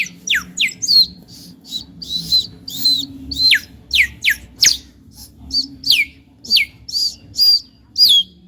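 A person imitates sparrows chirping, producing a rapid series of about twenty sharp, high-pitched chirps and squeaks in irregular bursts, loud and close, with a faint murmur of background voices beneath.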